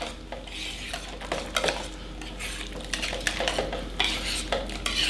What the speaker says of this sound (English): we're gonna mix this up.